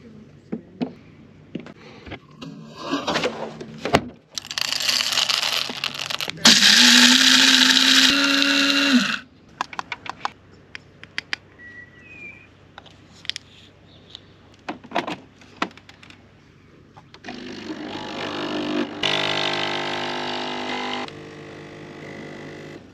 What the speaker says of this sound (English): we're gonna try and make a coffee on a coffee machine and see how it performs